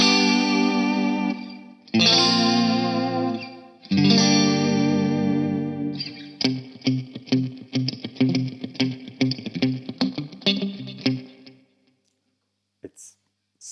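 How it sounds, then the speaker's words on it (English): Clean electric guitar chords through a Hughes & Kettner StompMan ring out with a wash of echoing delay repeats and lingering reverb, then a run of quicker picked notes before fading into silence. "you still have the delay, but it's inside the reverb now"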